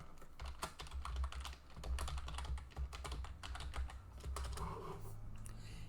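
Fingers tap quickly on a computer keyboard while a folder name is entered, a close, quiet run of uneven clicks with short gaps and no speech.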